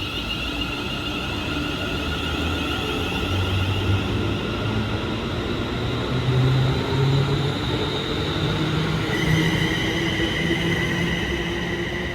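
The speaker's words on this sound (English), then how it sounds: "Train now departing is a 350 going to Crewe" A Class 350 electric train bound for Crewe pulls out of Stoke-on-Trent station with a steady rolling rumble and sustained high motor whine that shifts pitch as it gathers speed, loud and continuous.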